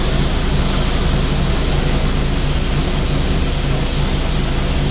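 An airbrush sprays paint onto a dapple grey rocking horse, producing a loud, steady, close hiss of air without a break.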